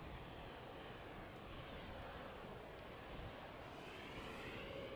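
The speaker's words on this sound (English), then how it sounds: "There was one pretty takeoff." An airplane takes off at night at Amsterdam Schiphol Airport on runway 36L, giving a faint, steady, broad engine roar heard from a distance with no other sounds over it.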